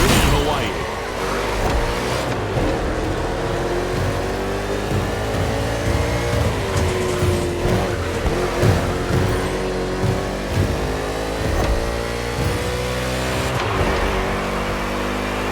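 NASCAR stock cars race through a street circuit in Honolulu, Hawaii, in The Crew Motorfest, engines revving loudly and shifting pitch steadily as cars roar past, with a commentator's voice running over the engine noise.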